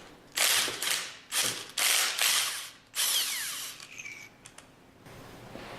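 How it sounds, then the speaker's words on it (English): A ratchet removes manifold retaining bolts on a General Pump unit in several quick bursts of close, loud clicking separated by short pauses, with a few lighter clicks near the end. "remove the remaining retaining bolts"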